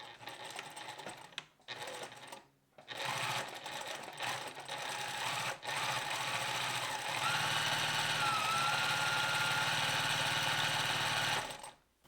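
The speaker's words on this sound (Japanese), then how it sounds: "最初は返し縫いをします。" A sewing machine stitches a gathered flower decoration for a blouse. It opens with a few short stop-start bursts of backstitching, then runs in one steady, fast whirring stretch before stopping abruptly.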